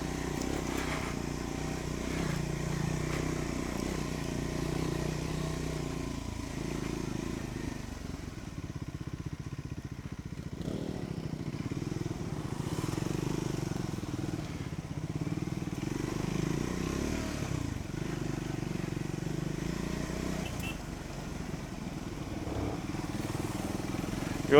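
ADV motorcycles riding off-road near Kalasa give a steady, continuous engine drone with occasional clatter as the bikes work over rough terrain, holding at a fairly constant level throughout.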